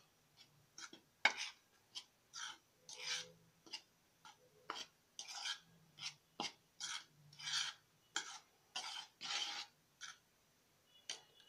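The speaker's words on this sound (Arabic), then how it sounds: "هقلبهم كويس" Dry cake ingredients of flour, salt, cornstarch and baking powder being stirred in a bowl, a series of soft rhythmic scraping and rasping strokes, close and quiet, with no talk.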